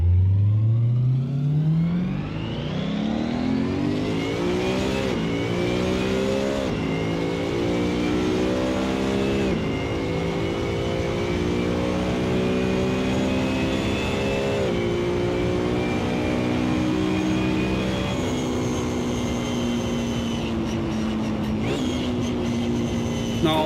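A McLaren race car in Assetto Corsa gives a loud, continuous exhaust howl, its high engine pitch climbing and dropping through repeated gear shifts with an almost aircraft-like whine, heard alone without talk.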